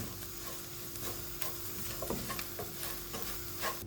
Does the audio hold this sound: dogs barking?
no